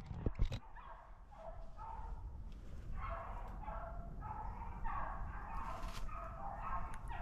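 Beagles bay in a rabbit chase during a hunt, their repeated yelping cries rising and falling over steady outdoor rumble, fairly distant and continuous throughout.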